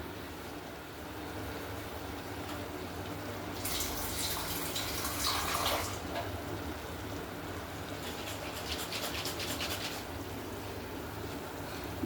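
Tap water runs while a mixer grinder jar is rinsed in a home kitchen during cooking of hotel-style chicken kulambu. A steady, soft hiss carries throughout, with two louder stretches of splashing, and no talk.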